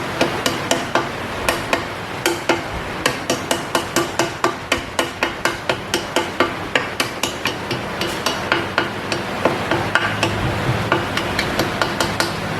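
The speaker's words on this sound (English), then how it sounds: "So take my brass hammer, I'm gonna just tap this race in" Brass hammer tapping a bearing race into a GT-R front differential on a small workbench, a long run of sharp, closely spaced metallic taps at a steady rhythm, loud and near, with no talking.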